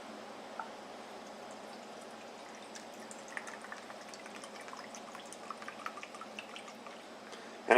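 Denatured alcohol fuel trickles into a Trangia 27 ultralight alcohol stove burner in a thin, quiet, steady pour with faint drips and small clinks, lasting several seconds, ending in a brief knock.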